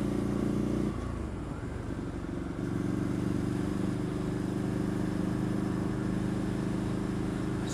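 A Ducati Scrambler motorcycle rides along with a steady, close engine drone, dipping briefly as the engine changes pitch early on before settling into a constant cruising hum.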